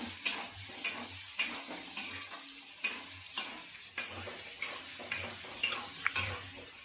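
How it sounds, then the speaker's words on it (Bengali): Onions are stirred while frying in a pan for dry chilli chicken: about a dozen evenly spaced spatula scrapes, close and crisp, over a soft steady sizzle, with no talking. "একটু হালকা করে নেড়ে নেবো পেঁয়াজগুলো।"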